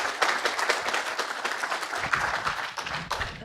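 Audience applause in a conference hall as panel members are called to the stage, steady broadband clapping throughout with a few louder claps near the end.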